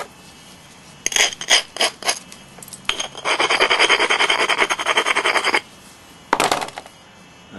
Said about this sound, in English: Trying to remove some thinning flakes over there.